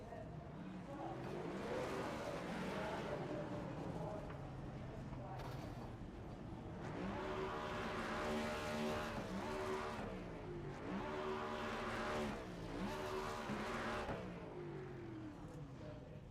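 A race car in a racing video game does a celebratory burnout at Martinsville, its engine revving in long surges with tire squeal, while commentators talk over it.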